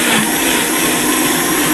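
A kitchen blender runs at full speed on serrano chiles, onion, garlic and cilantro for a green salsa, making a constant, loud, close whirring drone that cuts off abruptly.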